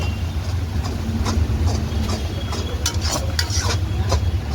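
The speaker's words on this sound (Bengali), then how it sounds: "ও ভাই তেল ছিটকাচ্ছে" Hot oil spitting and sizzling in a pan while mutton Maggi noodles cook, a steady crackling hiss with scattered sharp pops and faint utensil clinks close by.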